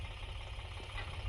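A tractor engine idles on a farm, a low, steady rumbling throb heard faintly and continuously with no voices over it.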